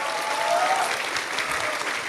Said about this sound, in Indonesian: Kasih tepuk tangan dong pada yang tanya-tanya nih.